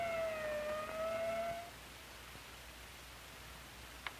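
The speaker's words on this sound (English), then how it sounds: "the ambulance brings in the victim of an accident that never should have happened" An ambulance siren wails in a steady tone from an old 1951 safety film soundtrack, fairly faint under hiss, then cuts off after about a second and a half, leaving low noise and a brief click.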